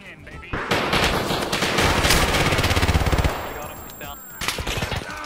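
Sustained rapid automatic fire from a PPSh submachine gun in a shooter game, a loud continuous rattling burst that stops abruptly, followed after a short pause by another brief burst.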